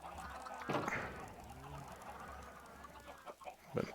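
Chickens cluck in the Minecraft video game, a few short clucks and squawks spaced irregularly over quiet background noise.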